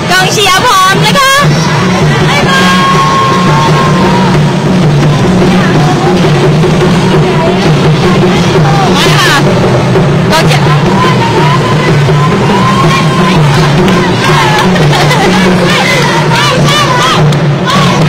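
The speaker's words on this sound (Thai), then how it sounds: "กองเชียร์พร้อมนะคะ" At a school sports day for children with special needs in Prachuap Khiri Khan, a cheering squad chants and shouts loudly in unison. The roaring crowd noise is continuous and close, with an announcer's voice over it.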